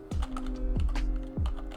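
Typing on a computer keyboard while coding in Python: key presses at a steady rhythm over low tonal background sounds that sweep downward, with no voice.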